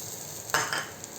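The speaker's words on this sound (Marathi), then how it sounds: "आता या फोडणीमध्ये आपण भाजून घेतलेले मिरचीचे तुकडे घालणार आहोत" Roasted chili pieces drop into a hot spice tempering, giving a sudden short burst of sizzle over a low background hiss, followed by a second smaller crackle.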